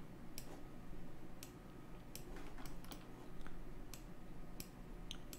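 Computer keyboard keys tapped while working in 3ds Max, scattered crisp clicks at an uneven pace, quiet and close over a low steady hum, with no talking.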